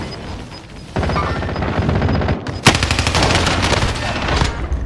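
Rapid gunfire rattles loudly in Call of Duty Warzone, starting after a brief quieter stretch and then pounding in dense bursts with one sharp crack midway, close and continuous.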